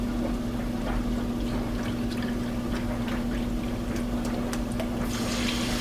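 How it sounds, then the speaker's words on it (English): Chicken broth poured into a pot over a flour-and-butter roux on the stove, a continuous liquid splash and trickle over a steady low hum for several seconds. "now let's pour in 2 cups of chicken broth."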